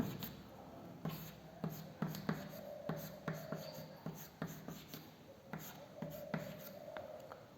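Chalk or marker writing on a board during a chemistry lecture on haloalkanes, a series of rhythmic scratchy strokes and taps, close and moderately quiet, with no talk over them.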